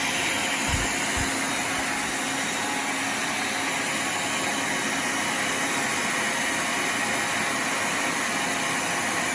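A hair dryer blows steadily onto a temperature sensor in a study room, a constant close whooshing hiss with no breaks, alone and without talk.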